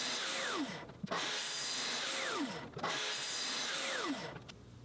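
A radial arm saw with improved dust collection makes three repeated crosscuts through a 2x4, each one a loud, harsh roar as the blade passes through the wood. Brief dips in the sound separate the cuts, and no one speaks.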